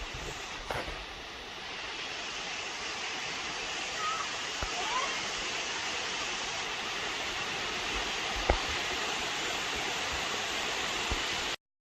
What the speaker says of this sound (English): This is Kondalila Falls, which is the Aboriginal word meaning rushing water.